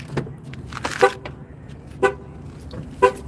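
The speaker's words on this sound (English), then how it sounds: "my car alarm went off" A car alarm goes off nearby in short honking bursts, three evenly spaced blasts about a second apart over low background noise.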